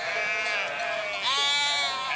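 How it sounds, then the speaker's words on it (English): Sheep bleating up close in open Spanish dehesa pastureland, two wavering, nasal calls in quick succession, loud and alone. "I have around 400 sheep"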